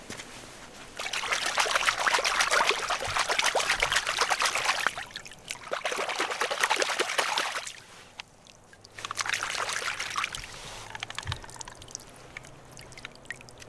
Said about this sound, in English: Let's rinse the gun first. Get some of that bog water down in there.